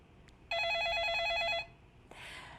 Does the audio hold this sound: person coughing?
no